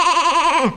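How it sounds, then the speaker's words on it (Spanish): A sheep bleats once, a loud wavering bleat close by, standing alone and fading at the end. "¡Es una oveja!"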